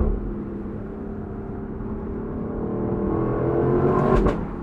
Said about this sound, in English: you can just play this 5-liter V8 like an instrument